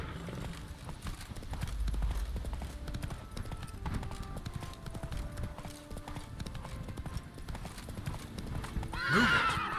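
Horse hooves clip-clopping in the video game Witcher 3, a steady rhythmic trot with a neigh at the end, alongside in-game sounds.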